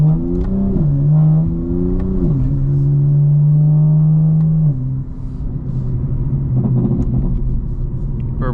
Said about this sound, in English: Burbles are on, as you can hear. Sounding good.